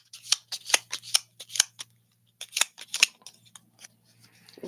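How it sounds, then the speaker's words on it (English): Playing cards shuffled during a tarot reading, sounding as two bursts of sharp, papery flicks up close, then a pause and a few softer rustles. "Okay, back to shuffling."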